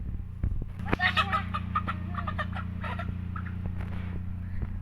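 Newly bought chickens cluck and squawk in excited bursts at close range over a steady low hum, with a little human voice in the background.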